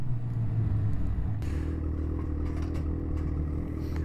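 A snowmobile runs along the rail trail between Lindsay and Haliburton with a steady engine rumble and clatter, a sharper surge partway through, and no voices.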